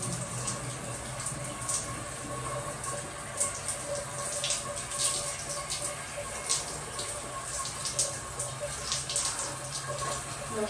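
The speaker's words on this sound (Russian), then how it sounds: "Чтобы знать, как это включить горячую воду." Steady hiss of hot water running from a tap, continuous and fairly close, with faint splashing variations and no talking.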